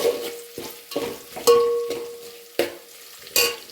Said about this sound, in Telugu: పచ్చిమిర్చి, మంచిగా ఫ్రై కానివ్వాలి.